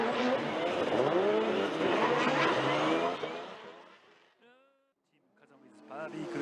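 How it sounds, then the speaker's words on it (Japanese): A drift car at Formula Drift Japan roars loudly through a slide, engine and tires blaring for about three seconds before fading away, then another car's revving rises at the end. "ドリフト状態作ってアングルを作ってウォールを攻めていった"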